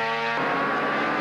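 Race car with a troubled gearbox at the 1979 Bathurst race, a loud whining engine note that holds a steady pitch, then breaks into a rougher roar partway through, close and continuous.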